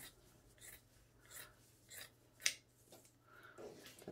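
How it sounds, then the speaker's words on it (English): Scissors cut through tea towel fabric in a series of soft, close snips and crisp rustling slices, spaced about half a second apart, with one sharper snip in the middle and no talking. "Okay, so cut those edges off."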